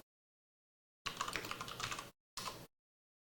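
A command is typed on a computer keyboard: a quick, close run of key clicks for about a second, a short pause, then a brief final burst of keystrokes, alone in silence.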